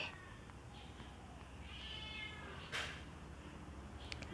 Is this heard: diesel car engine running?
no